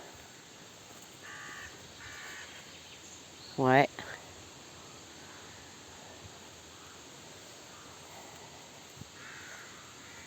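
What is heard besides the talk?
crows cawing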